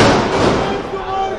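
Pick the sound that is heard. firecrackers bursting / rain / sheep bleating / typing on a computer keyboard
firecrackers bursting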